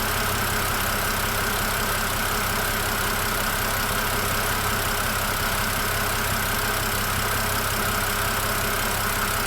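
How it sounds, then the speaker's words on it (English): Car engine idling after Liqui Moly MoS2 additive was mixed into fresh Castrol Edge 5W40 oil, a constant, even drone with no revving or change, heard alone and close. "So now this is the noise level after adding up the LIQUIMOLY MoS2 on the brand new Castrol Edge"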